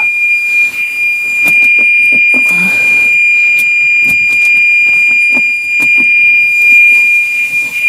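Repeated electronic warning beeps from a 2002 Range Rover L322 with its body control module being swapped, a steady high tone sounding throughout alongside short clicks and handling noises close by.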